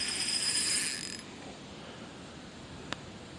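A rapid whirring fishing reel drag burst at the start as a bass takes the line, then fades to quiet background with one sharp click near the end.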